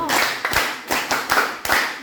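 Junior high students at a school reading competition clap in quick bursts for a team, the claps fairly close and crisp, with a voice briefly heard among them.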